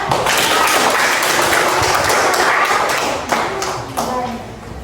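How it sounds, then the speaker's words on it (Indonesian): A group claps hands before a school poster presentation, a close, loud burst of mixed claps that thins out toward the end, with some speech underneath. "Ya, tepuk tangan dulu kan."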